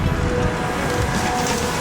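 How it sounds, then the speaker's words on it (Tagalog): Strong wind roars steadily on a roof in a broad, rumbling wash of noise with no voices, constant and close. "Umuugong yung bubong sa lakas ng hangin."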